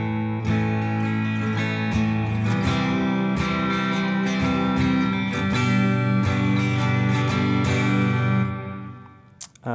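Acoustic guitar strumming through shifting chord patterns in a beginner lesson, steady full-bodied rhythm played close and alone, fading out near the end.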